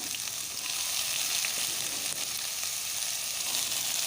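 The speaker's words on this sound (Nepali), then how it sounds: "यसरी बिस्तारै प्याजहरू हालिसकेपछि हामी यसलाई फ्राई गर्छौं।" Onions frying in a pan for mushroom gravy give a steady, dense sizzle that stays loud and even throughout, with no talking.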